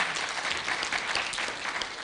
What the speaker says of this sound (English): Can we clap for those women?